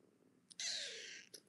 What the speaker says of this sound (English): So I finally got an emotional support kitty.